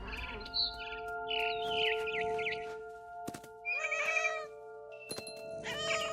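A cat in the video game What Remains of Edith Finch meows several times in short, clear bursts, over a sustained tonal musical backdrop, with a few sharp clicks between the calls.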